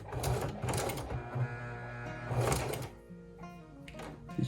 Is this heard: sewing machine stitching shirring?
yes